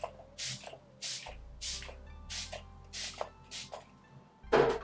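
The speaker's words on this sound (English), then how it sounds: "spray my face with MAC Fix Plus" Several short bursts of MAC Fix Plus facial setting spray from a pump bottle, about one per second, close up, ending with a louder final spritz.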